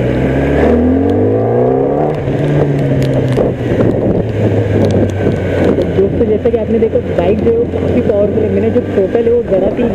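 A 2020 Kawasaki ZX10R 1000cc superbike revs aggressively close up, its engine pitch rising and falling in sweeps over a continuous rumble, with someone talking over it throughout.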